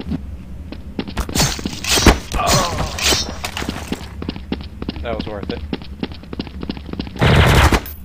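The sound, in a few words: gunfire in video game Counter-Strike: Source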